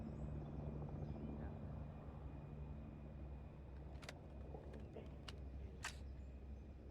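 A military helicopter in Arma 3 drones with a steady low rotor and engine rumble, constant and moderately close, with a few sharp clicks near the end.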